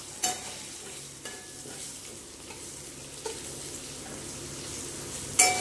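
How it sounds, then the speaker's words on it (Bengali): Salted potatoes being stir-fried in a pan, a low steady sizzle with a few distinct utensil knocks and scrapes spaced apart, the loudest at the very end, with no one talking. "এবার আলুটা দিয়ে ভালো করে কষে নেব।"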